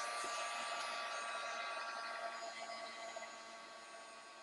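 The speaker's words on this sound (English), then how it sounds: "We're going to give this a quick heat set." A handheld heat tool blows a steady, close, airy whoosh across a painted art journal page and fades slightly toward the end, with no talking.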